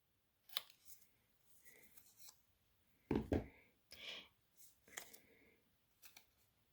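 Scissors trim small pieces of paper cardstock for gift toppers and tags, making a few short, quiet snips and clicks that are separated by pauses in a calm room.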